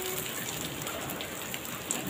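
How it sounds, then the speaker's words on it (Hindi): Heavy monsoon rain pours down steadily in a village, a dense hiss of drops hitting surfaces nearby, with no voices. "हमारे गांव में इतनी जोर जोर की बारिश"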